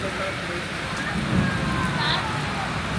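Heavy rain pours down outdoors during a family gathering, a dense, steady hiss that fills the whole scene, with soft background voices mixed in.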